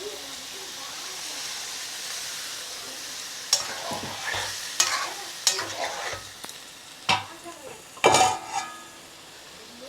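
Dhoka masala sautés with a little water in a pan, giving a close steady sizzle and hiss punctuated by several sharp scrapes and knocks of a spoon against the pan.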